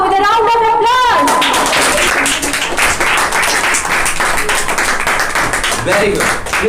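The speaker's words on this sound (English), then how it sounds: "Guys, please welcome her with a round of applause." An audience claps loudly to welcome Miss Renu Bora, guest of honour at a monthly rewards and recognition ceremony, with dense sustained applause filling the room after a brief voice at the start.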